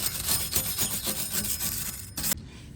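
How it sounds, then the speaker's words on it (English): Rough, repeated scraping strokes of a wire brush scrubbing rust off the brake surface of a Mercedes E350, fairly close, ending in a few sharp scratches. "Make sure you get a wire brush, clean this off."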